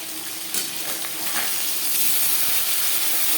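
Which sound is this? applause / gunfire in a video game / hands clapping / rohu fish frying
rohu fish frying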